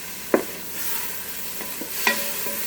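Zoodles and shrimp tossed and sizzling in a Ninja Foodi pot, with soft stirring scrapes and a few sharp utensil clinks against the pot over a low steady fry.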